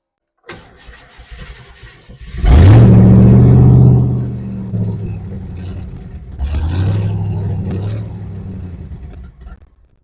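A Ford 289 V8 with a fresh intake swap cranks and catches, roaring up to a loud high-idle rev, then settling into a rough, uneven idle before surging again; close and loud, with no talking.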